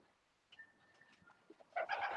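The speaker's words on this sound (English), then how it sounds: "As you can see, the birds exercising, doing a bit of flying in here." Racing pigeons exercising inside a sand-floored loft at a one-loft race: faint coos and a thin whistle are followed by a louder flurry of wingbeats and bird calls near the end, with no voice.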